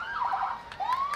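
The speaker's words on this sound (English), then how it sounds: "That's not a toot, that's a siren." A vehicle siren wails at a Monson Summerfest Fourth of July parade, one brief rising and falling sweep, loud and close, with nobody speaking.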